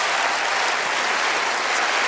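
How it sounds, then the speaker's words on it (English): Studio audience on a televised magic show applauds steadily, a dense, loud wash of clapping that holds evenly throughout with no talk over it. "Let's all give Tony one big round of applause as he takes his seat."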